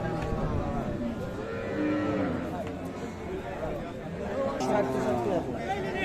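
Cows, Sahiwal cows with calves, moo repeatedly amid a busy crowd of chattering voices at Ambari cattle market in Dinajpur, with several long lowing calls rising over the hubbub.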